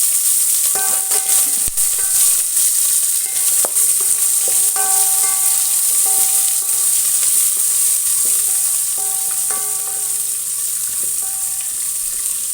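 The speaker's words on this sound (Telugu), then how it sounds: "ఇందులో పచ్చిమిర్చి, ఉల్లిపాయలు వేసుకుంటున్నాను. ఇది కొంచెం వేగాలి." Green chillies and onions hitting hot tempering oil in a pan for a horse gram dal rasam, a loud continuous crackling sizzle with sharp pops and spatters scattered across it, alone with no talk.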